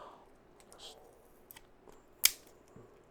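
Thin plastic wrap crinkles and peels off a Microsoft Surface pen in soft, sparse rustles, with one sharp snap near the end, close and quiet.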